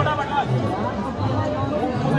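Busy crowd chatter around passenger food stalls at Varanasi Junction railway station, a continuous mid-level babble of many voices with no single speaker standing out.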